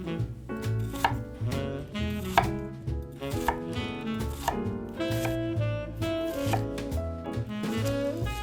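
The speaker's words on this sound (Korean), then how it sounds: "먼저 양파를 가로, 세로 1cm 정도 크기로 썰어주세요." A knife chops onion into small pieces about a centimetre square on a board, with steady, close rhythmic strokes under a prominent bed of tonal music.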